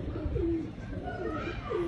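An old-fashioned breed of pigeon coos close by in soft, repeated throaty rolls, a few distinct calls rising and falling over quiet background noise.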